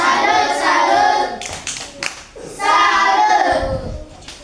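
A class in an Indonesian-language lesson claps a rhythmic tepuk salut cheer, with bursts of hand claps mixed with loud group chanting voices, close and energetic.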